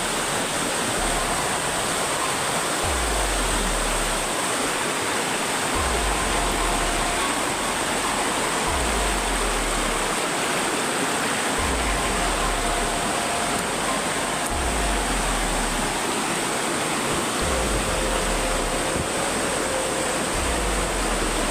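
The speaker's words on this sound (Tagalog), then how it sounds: "yung mga sapa na binabaybay namin ba" A shallow stream flows with a steady, continuous rush of water close by, a broad even wash of sound with soft low thumps recurring every few seconds and no voices.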